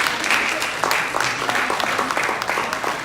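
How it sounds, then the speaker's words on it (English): Sustained applause from an audience at a temple anniversary celebration, honoring the food volunteers, dense steady clapping filling the whole stretch with a faint voice or two mixed in. "Please give a big hand of applause to all the food volunteers"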